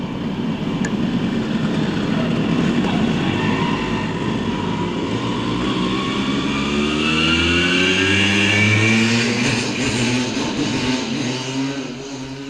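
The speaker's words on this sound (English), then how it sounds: "young people still race here on Simpson bikes" Simson motorbikes race at a closed former state combine, their engines whining and rising in pitch as they accelerate and pass nearby, loud and continuous with no talk.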